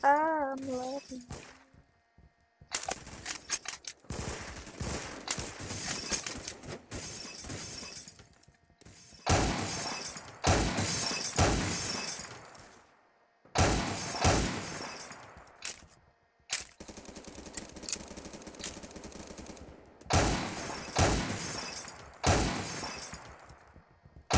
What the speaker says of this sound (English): I'm just trying to break some glass.